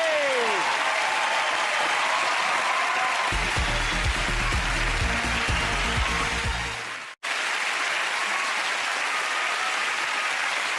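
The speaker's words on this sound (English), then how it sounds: "Give them a massive round of applause." A large studio audience on the game show Family Fortunes applauds loudly and continuously, with a brief dropout near the end before the clapping resumes.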